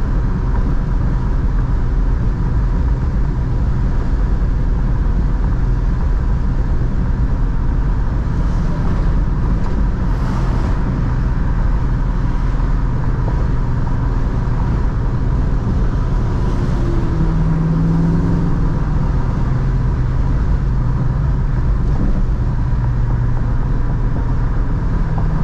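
A 1972 Plymouth Road Runner cruises at about 60 mph and 2,500 RPM, a steady low engine drone mixed with road and wind noise heard from the cabin, unbroken for the whole stretch.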